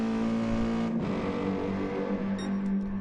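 Grunty Mercedes V8 race car engine in a racing game, a loud steady drone that dips and recovers around a gear change, continuous and close throughout.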